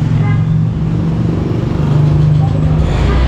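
A 2025 Honda Beat scooter in premium white idles steadily after an electric start, a loud continuous small-engine hum with a low even rhythm and no voices.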